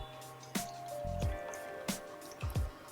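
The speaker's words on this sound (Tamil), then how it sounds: "ஸோ நம்ம வெல்லத்தையும் நல்லா வடிகட்டியாச்சு" Thick jaggery syrup drips through a filter in a kitchen, a handful of separate wet plops and squishy drops landing at uneven intervals, close by, with a faint background hum and no talk.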